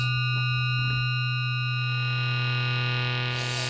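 A clean, steady synthesizer tone from a Serge wave multiplier in low mode, with stacked harmonics, holds throughout, undistorted, brightening slightly at the very end.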